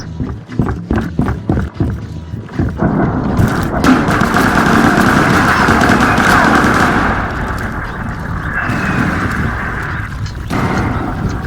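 Artillery fire in the shooter game Firearms: Source, with a run of sharp, heavy blasts followed by a loud, sustained roar of explosions and rumbling that slowly fades.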